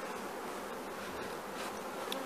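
Honeybees, workers and larger male drones, swarm inside their hive. They make a dense, continuous buzzing drone that stays steady and close throughout, with no one talking.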